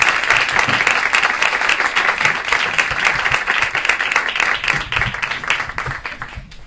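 Audience applauding a guest speaker, Dr. Jorge Castañeda, at a university event: steady dense clapping from a sizeable crowd, loud and sustained, easing slightly toward the end.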